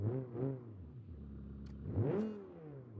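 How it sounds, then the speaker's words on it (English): A car engine in the BeamNG driving game revs up and down in rising and falling sweeps, with a turbo spooling, close and alone without talk. "Turbo sounds interesting, a little bit of a spool going on."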